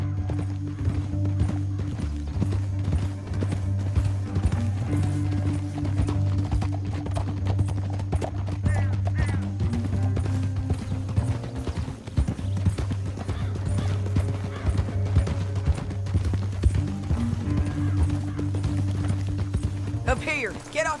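Horses gallop continuously in Red Dead Redemption 2, a steady drumming of hooves over a low droning score, with faint voices in the background.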